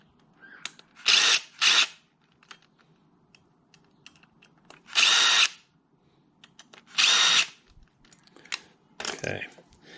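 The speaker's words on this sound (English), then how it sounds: "loosen all 4 bolts on the bottom of the carb" Power drill loosening the four bolts on the bottom of a carburetor during rejetting, with four loud whirring bursts of a couple of seconds each, separated by quieter clicks and tool handling close by.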